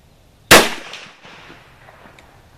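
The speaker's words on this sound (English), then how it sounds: "let's go ahead and shoot 5 more of the Tumble lube bullets" A single sharp .30-30 Winchester rifle shot firing a tumble-lubed cast bullet cracks loudly and close, then decays into a short echoing tail.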